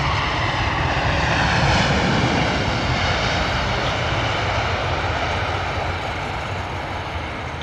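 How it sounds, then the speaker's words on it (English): A Delta Air Lines Boeing 767-400 coming in to land at London Heathrow, a loud continuous broadband jet roar that holds steady and eases slightly toward the end, with no voices. "Delta Airlines 767-400 coming in, just about to touch down"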